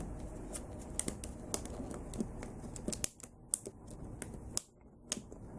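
Scissors cut a Masterverse Hordak action figure out of its plastic packaging, making close, quiet, irregular snips and sharp clicks with short pauses between them.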